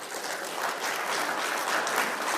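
Steady applause from a large audience at a talk on the California drought, sustained and fairly even across the whole stretch with no voices on top.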